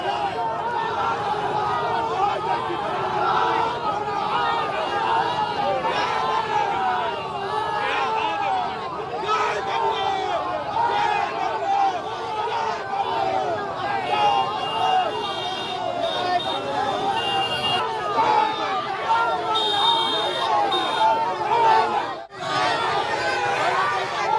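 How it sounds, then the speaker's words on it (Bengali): Trinamool supporters in Durgapur shout go-back slogans at Dilip Ghosh, a dense, loud crowd of rhythmic chanting voices and yelling that continues throughout with overlapping babble. "দিলীপ ঘোষকে গো ব্যাক স্লোগান তৃণমূলের"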